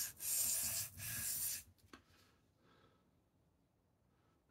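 A knife blade is drawn across a sharpening stone in two close, loud rasping strokes, then the sound drops to near silence with only faint handling noise.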